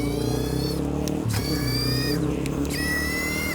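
A CYC X1 Pro Gen4 mid-drive electric bike kit pulls away at quarter throttle in a slow, limp-like mode, giving a steady, fairly loud motor whine with rising and falling tones and a brief break partway through.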